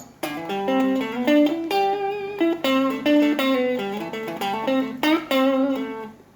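Clean electric guitar on the neck pickup playing a melodic run of picked notes with a warm, rounded tone, steady and close with no voices.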